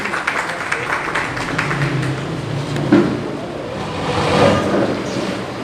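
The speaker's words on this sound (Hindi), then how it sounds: "आपकी भरपूर तालियों में।" A lecture audience gives a warm, sustained round of applause as Dr. Ahmed Bhatti is welcomed to speak on anatomy and physiology. The clapping forms a dense, hissing wash of many hands that swells slightly and continues for several seconds.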